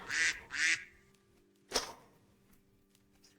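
Ducks quack in the Minecraft world. Two quick, nasal quacks come close together, then a single quack follows after a pause, fairly near, with a faint low hum underneath.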